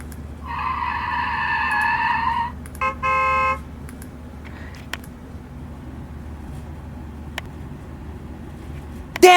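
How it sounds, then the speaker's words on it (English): Traffic in a city downtown: steady road rumble under a long car horn blast and a second shorter honk, then faint scattered knocks and a sudden louder burst at the end. "Traffic came to a screaming halt."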